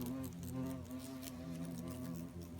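Hornets buzz around their nest with a dense, continuous drone of many overlapping wingbeats, close and steady throughout, with no speech.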